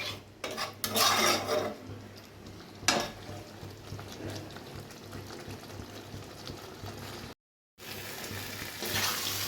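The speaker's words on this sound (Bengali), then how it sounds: "জল দিয়ে হালকাভাবে কষতে থাকবো" Spice masala is sautéed with a little water in a pan for a sweet potato curry, giving a low bubbling sizzle with clinks and scrapes of the spoon in short bursts, close and moderately quiet, with a brief gap of silence near the end.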